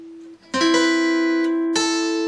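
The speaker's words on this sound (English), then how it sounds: "I'm strumming all three of those strings now." A single guitar note rings, then a few quick strums layer three strings into a bright, sustained chord that is struck again near the end.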